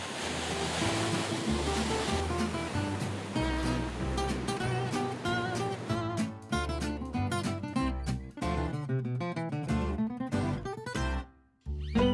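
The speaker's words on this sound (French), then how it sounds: "si vous voulez avoir la chance d'observer les plus grosses vagues" Steady roar of heavy surf crashing on the Costa Nova coast, with a tonal musical layer running over the rushing water throughout.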